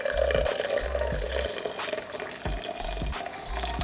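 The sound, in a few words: pouring water over coffee grounds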